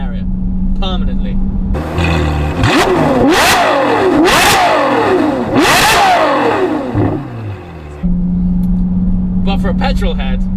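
A Ferrari F12 with a Novitec N-Largo body and exhaust revs hard in several loud, rising and falling bursts, screaming high each time, with a steady idle before and after.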